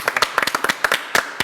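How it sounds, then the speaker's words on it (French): Studio participants on a television quiz show clapping for themselves, a short run of distinct, close hand claps in an uneven rhythm, a handful of people rather than a big crowd. "vous pouvez vous applaudir"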